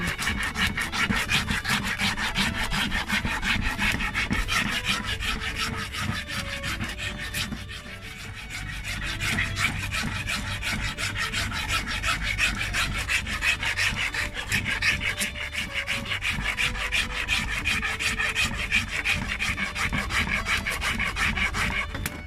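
Steady, rhythmic rasping of a coarse file on a wooden knife handle, stroke after stroke, close and continuous with a brief lull midway.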